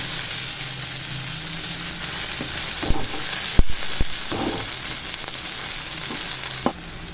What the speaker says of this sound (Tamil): இது நல்லா வதங்கட்டும் தக்காளி.